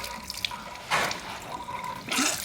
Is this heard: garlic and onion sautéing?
no